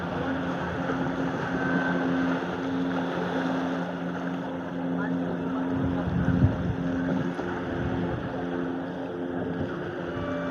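Small boat with a boy aboard moving across the sea, a steady engine drone and water wash mixed with wind buffeting the microphone, continuous and fairly close throughout.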